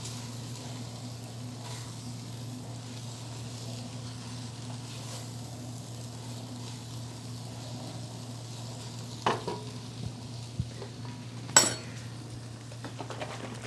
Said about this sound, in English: And stir that in. Until there are no flour specks showing.